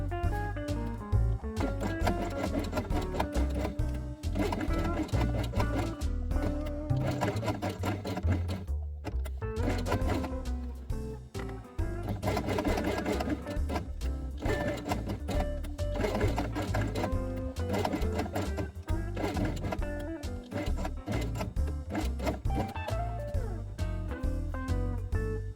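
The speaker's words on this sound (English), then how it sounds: "sew only brown elements along the edge with beige thread" A sewing machine stitches brown elements onto light brown felt with beige thread, running in a loud, continuous mechanical whir with fast rhythmic clatter close up throughout.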